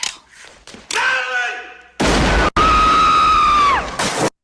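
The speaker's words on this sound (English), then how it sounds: "That scream was insane." A man's long, shrill scream from the 1992 film Death Becomes Her rings out loud between hard thuds and bangs, with a shorter cry before it.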